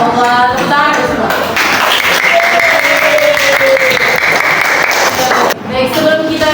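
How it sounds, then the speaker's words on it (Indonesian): Students in a seventh-grade Arabic classroom clap together in a steady, fairly loud burst of applause lasting several seconds, with children's voices chattering over and between the claps. "tepuk tangan semua"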